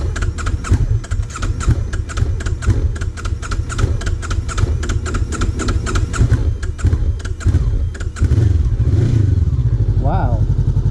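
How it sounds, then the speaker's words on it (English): A touring motorcycle on a cross-country trip is cranked repeatedly, with a fast, rattling starter churn that goes on for several seconds before the engine roughly catches and rumbles. "The bike is a little bit hard to start."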